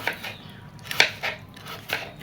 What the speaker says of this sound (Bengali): দেখেন পিস পিস করে পেঁপেগুলো কাটছে